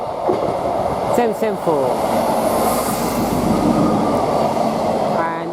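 A Class 158 passenger train in purple livery passes through March railway station, loud and close, with rumbling wheels, clickety-clack over rail joints and brief squeals, while someone speaks briefly over it.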